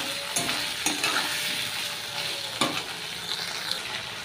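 Potatoes fry with a cumin, ginger and chili paste, giving a steady broadband sizzle broken by several sharp scraping stir strokes of a spoon against the pan.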